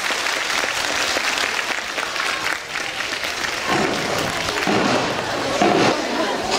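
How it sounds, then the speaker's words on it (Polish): A large audience of children and adults applauds at a writers' meeting with young readers in a packed hall. The clapping is dense and sustained throughout and swells toward the end. "gorące brawa dla naszych gości i dla Was"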